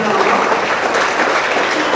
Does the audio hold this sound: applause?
yes